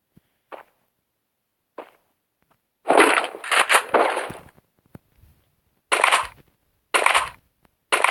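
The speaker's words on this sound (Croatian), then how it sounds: "Neko se puca." Short bursts of gunfire ring out in the mobile shooter game Free Fire, with several loud volleys separated by gaps and a few faint single shots and clicks in between.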